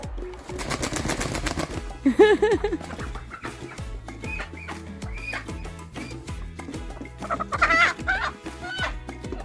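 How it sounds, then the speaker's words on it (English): Chickens cluck in a garden in May, giving a busy run of close, repeated clucks with a few louder squawks. People talk quietly in the background. "They are really classy birds."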